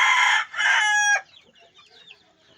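A young farm rooster gives two loud, close crows, then softer scattered clucks and chirps in the quiet that follows.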